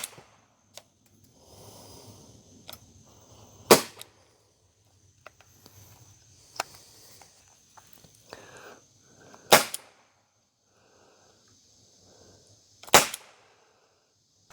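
Six-needler weapon shooting needles into pork ribs from about ten feet away, heard as three sharp, loud cracks spaced a few seconds apart, with faint handling noise and quiet shuffling in between.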